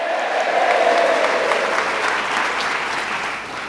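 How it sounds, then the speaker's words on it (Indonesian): An audience at a sales seminar bursts into loud, sustained clapping that fills the room close by, then gradually tapers off. "Kasih tepuk tangan dulu yang meriah dong Bapak Ibu, kasih suara, yeay!"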